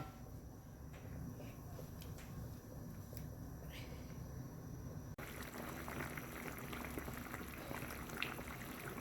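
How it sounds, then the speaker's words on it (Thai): Salted fish curry with morning glory bubbling in a pot, a steady simmering hiss with a lid on, rising to a fuller rolling boil partway through, close by and constant. "ก็เดือดเรียบร้อยแล้วค่ะ"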